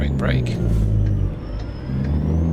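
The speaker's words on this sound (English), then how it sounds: "Another downshift off the engine brake." A Mack Super Liner truck with a 2150hp Caterpillar 3406E engine in American Truck Simulator rumbles loudly and shifts down, engine braking with a low, steady drone that dips briefly mid-clip, while a voice talks over it.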